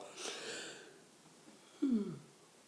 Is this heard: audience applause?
no